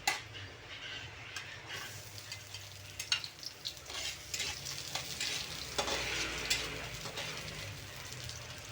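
Garlic and ginger sautéing in a pan for a sardine-style anchovy dish, with a steady, close sizzle of hot oil and occasional scrapes and taps of a spoon as it is stirred.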